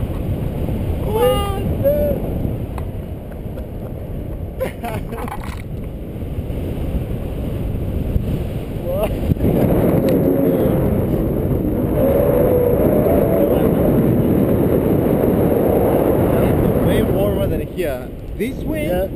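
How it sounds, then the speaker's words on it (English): Wind buffeting the microphone during a paragliding flight in cold Alaskan air, a loud rushing roar that swells and persists throughout while people talk over it. "This wind, yeah."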